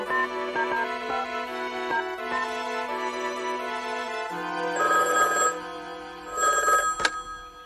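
A cartoon farm telephone rings in repeated bright electronic bursts, close and clear, with a musical score underneath and a sharp click near the end.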